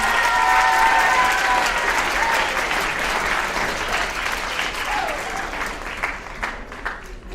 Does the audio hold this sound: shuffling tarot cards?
no